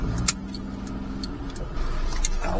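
Idling engine of a Daihatsu Atrai mini-truck with an intercooled turbo, running a little rough, a steady low hum close by with a few light metallic clicks and jingles over it and no talk.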